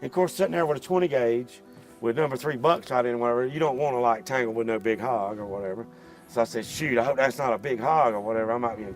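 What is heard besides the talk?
No everyday noises stand out.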